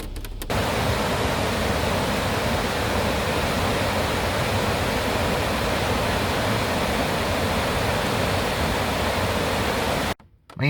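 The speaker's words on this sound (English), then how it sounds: "Man, that river is just roaring down there." A wilderness river roaring down a waterfall in the mountains, a loud, unbroken wall of rushing water from start to finish, heard alone.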